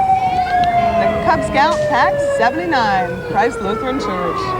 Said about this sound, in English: if you can hear that in the background, that's the West End Ambulance